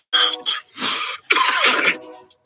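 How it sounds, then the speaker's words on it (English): A person coughs several times in quick succession, close and loud, with a brief throat-clearing rasp between coughs. "Excuse me, I got a cough going on."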